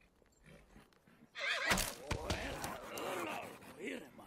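A wild horse lets out a loud, shrill whinny up close, followed by snorting and agitated neighing, with hoof clatter and voices mixed in around it.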